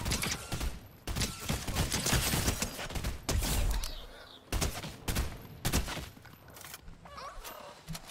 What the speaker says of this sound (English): someone's sniping at me from really far away